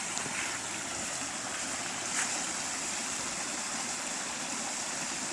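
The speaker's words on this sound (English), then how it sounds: "Many little waterfalls. That's just runoff from all that rain." Rain runoff pouring down in many small waterfalls outdoors in Ontonagon, Michigan, a steady, dense rushing and splashing that holds evenly throughout with no voices.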